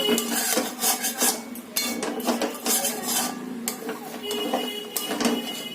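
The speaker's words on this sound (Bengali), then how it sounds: "এবার আমি এই সাইড দিয়ে খুন্তি দিয়ে ভালো করে এই সরগুলো নাড়িয়ে নেব।" A spatula scraping and stirring thickened milk in a pan while making rabri, repeated metallic scrapes and clinks in an uneven rhythm, close and fairly loud.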